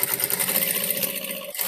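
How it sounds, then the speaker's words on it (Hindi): A sewing machine stitches along a blouse neckline, a close, rapid, steady mechanical whirring and clatter that runs continuously before slowing near the end, with no talking. "अब यहाँ पे मैं सिलाई लगाऊंगी।"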